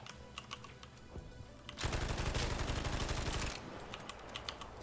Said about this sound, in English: I'm getting shot from all directions now.